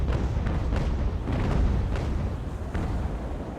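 Cannons on sailing warships fire in a naval battle in the game Ultimate Admiral: Age of Sail, a dense rolling rumble of heavy booms, some landing as distinct thuds within a continuous loud roar.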